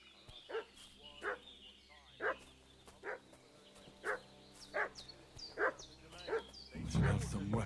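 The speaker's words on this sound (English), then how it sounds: "I hear barking. What's that dog making such a fuss about?" A dog barks repeatedly in a video game, with about a dozen evenly spaced, moderately loud barks, followed by a brief burst of louder rumbling noise at the end.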